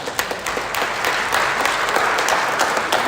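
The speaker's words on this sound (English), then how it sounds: "So, a round of applause for all of you and for the band." Steady applause from a symphonic band concert audience, dense clapping that builds slightly and holds at an even level for a few seconds, with no voices.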